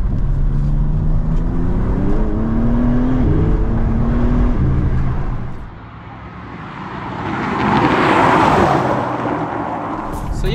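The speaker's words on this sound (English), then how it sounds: "Flat on the throttle. It just spins up." A G82 BMW M4 engine climbs under full throttle in a rising, loud drone, briefly eases off, then surges again with heavy road and wind roar heard from inside the car.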